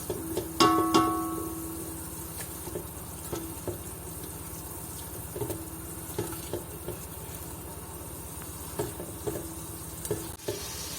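A quiet, steady sizzle of ginger-garlic paste frying in a pan, with scattered clinks and scrapes of a spoon stirring throughout.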